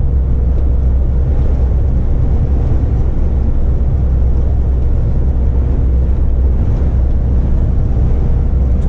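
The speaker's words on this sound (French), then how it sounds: "Il y a bien du vent." Steady, loud wind roars and buffets the microphone without pause, a constant low rumble throughout.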